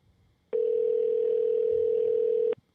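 A steady electronic telephone tone sounds for about two seconds, a single clean pitch that starts and stops abruptly, with faint room noise around it.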